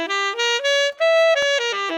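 A diminished chord of stacked minor thirds played as a stepping single-note line of clean, bright tones that rise and fall in pitch, with one quick click partway through.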